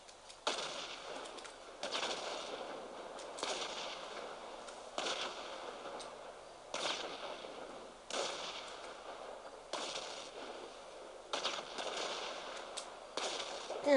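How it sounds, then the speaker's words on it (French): Repeated explosions in the video game GTA, bursts of blasts and crackling every second or so across the stretch, moderately loud with a busy rattling texture and no talk. "toutes ces explosions"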